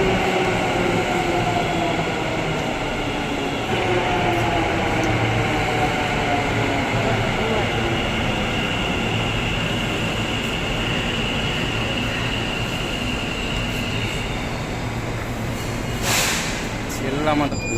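Metro train pulling into a station in Ahmedabad, a steady loud rumble with rising electric whine and wheel hiss filling the whole stretch, with people talking nearby on the platform.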